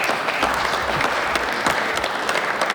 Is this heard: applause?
yes